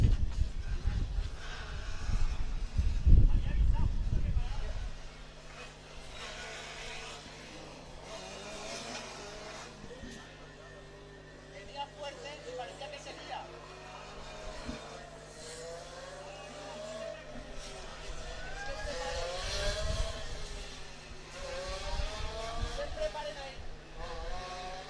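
A Formula Student race car runs the autocross track at Formula Student event FSS 2024, its engine rising and falling through gear changes as it passes at a distance, under a commentator's ongoing talk.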